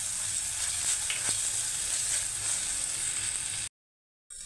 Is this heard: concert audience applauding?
no